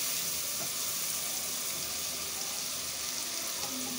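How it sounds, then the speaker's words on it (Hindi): Onions frying in oil for an aloo and egg salan, a dense continuous sizzle that stays loud and even throughout with no pauses. "इसको अच्छे तरीके से हमने प्याज को फ्राई करना है।"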